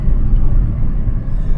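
Low, steady rumble of a rented car on the road in Greece, heard from inside the cabin as a continuous drone with no clear voices.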